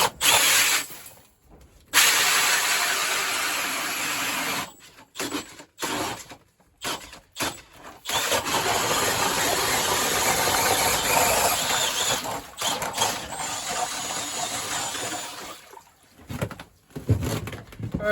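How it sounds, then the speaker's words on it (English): Bursts of a motorized ice auger whirring and grinding as it drills through ice, in an ice-fishing shanty, starting and stopping several times, loud and close with no talking. "Should drill right through."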